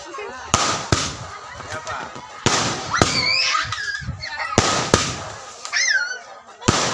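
Firecrackers burst nearby in a series of sharp, loud cracks, roughly half a dozen irregular bangs spread over several seconds, with people talking and exclaiming excitedly between them.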